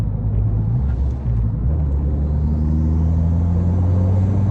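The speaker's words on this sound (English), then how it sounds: "And even in third gear, a little bit of turbo lag, but pulls right back to speed." Turbocharged car pulling hard in third gear after brief turbo lag, heard from inside as a loud, steady low engine drone that climbs gradually in pitch.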